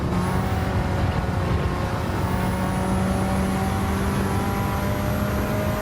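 Mitsubishi Lancer Evolution X racing in Gran Turismo 7, a loud, steady engine drone at high revs with a rising whine, continuous and close throughout.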